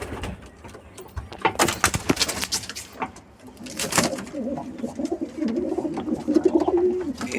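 Pigeons about to be flown coo softly in a loft, with wingbeats and clattering bursts of movement nearby and a scraping, door-like sound. No one speaks.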